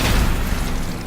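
A mech weapon discharging in Battletech, one short, loud, muffled boom that fills the moment and then cuts off abruptly.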